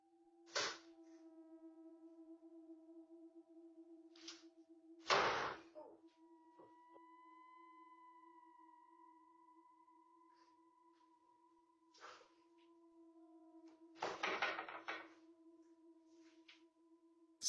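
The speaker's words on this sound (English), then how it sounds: "Something knocks on the pantry door, and moments later, it slams on its own" A few sharp knocks, then a loud bang from a pantry door slamming shut in a quiet house at night, spread out over a low steady hum, with another burst of clatter near the end.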